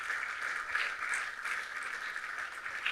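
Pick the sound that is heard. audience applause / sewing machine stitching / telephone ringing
audience applause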